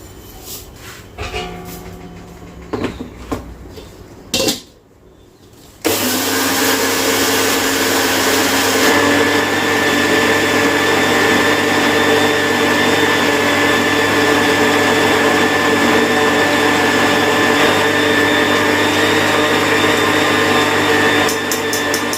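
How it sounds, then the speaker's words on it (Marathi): An electric mixer grinder powders sugar for a khaman dhokla premix. After a few clicks and short handling noises, the motor roars loud and steady, with a high whine that continues unbroken for over fifteen seconds. "तर मी आता हे दळून घेतलं, साखर दळून घेते."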